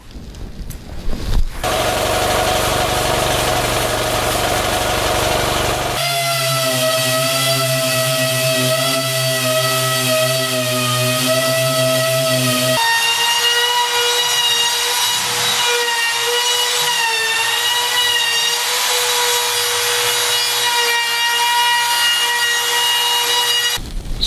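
A power sander whines continuously with shifting pitch for over twenty seconds, grinding against a wooden Murphy bed panel at close range.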